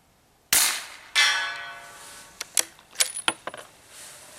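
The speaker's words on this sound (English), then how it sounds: "Today I'm shooting just regular 147 grain Federal ammunition." Shots from a pistol-caliber rifle firing 147 grain Federal 9mm ammunition outdoors: two sharp reports about half a second apart, then a scatter of lighter metallic clinks that sound like ejected brass landing.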